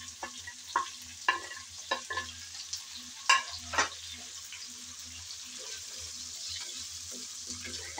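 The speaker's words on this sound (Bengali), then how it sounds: "এখন সবগুলো সবজি দিয়ে নেড়ে চেড়ে আবারও ভালো করে ভেজে নিতে হবে" Vegetables and potatoes fry in a pan for khichuri, a soft continuous sizzle broken by repeated sharp scrapes and clicks of a spoon stirring, some louder knocks near the middle.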